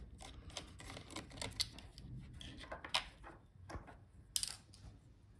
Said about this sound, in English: Disconnect antennas and take out one screw.